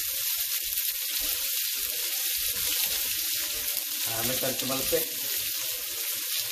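Onion cooking in hot oil, a dense continuous crackling sizzle with spattering, close and steady; a voice speaks briefly partway through.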